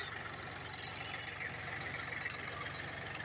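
A homemade mulcher with a chain cutter driven by a cardan shaft runs steadily, giving a continuous droning engine rumble with a rapid knocking pulse that stays even throughout, with no voices.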